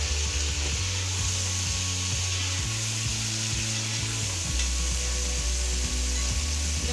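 Chicken pieces added to browned onions sizzle in a pan, a continuous close hiss under repeated scraping strokes of a spoon and a low steady hum, with nobody speaking.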